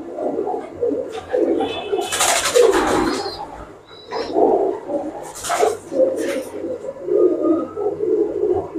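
Teddy flying pigeons cooing nearby in a loft, repeated soft throaty coos rising and falling over a low background hum, with a few flutters in between and no clear speech.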